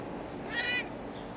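A cat gives a single short, thin meow outdoors during a stroll, fairly faint against a soft background hiss.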